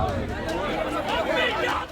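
A dense crowd of party workers packs a rally for Dimple Yadav in Kannauj, loud overlapping chatter and shouting voices pressing close and continuous.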